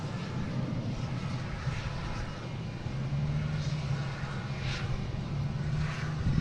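Boeing 737 MAX 8 airliner at Boston Logan airport, a steady broadband jet engine roar with a low droning hum, holding fairly constant and growing slightly louder toward the end, no voices.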